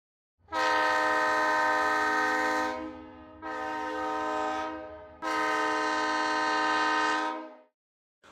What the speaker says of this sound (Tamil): உங்களுக்கு ட்ரெயின் வரும் சத்தம் கேட்கிறதா?